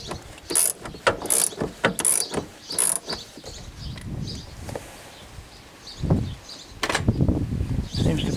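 A ratchet works on a wheel hub bolt of a 1998 Corvette C5 during a right rear hub replacement. Bursts of close metallic clicking come in short runs, with clunks and handling noises between them.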